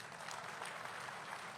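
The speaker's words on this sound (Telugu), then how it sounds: "ఏంటి చప్పట్లు కూడా ఎత్తున్నారు?" Applause from a crowd at a TDP political rally, heard as a steady, fairly faint wash of clapping that continues the whole time with no voice on top.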